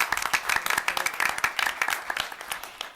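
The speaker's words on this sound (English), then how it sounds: "I think that deserves applause" Scattered applause from attendees at a college board meeting, a modest group clapping with distinct individual claps, fairly close, tapering off toward the end.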